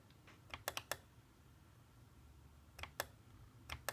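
A computer mouse clicking during a lecture, with a few quick, light clicks in small clusters separated by a pause, close and faint over a quiet room.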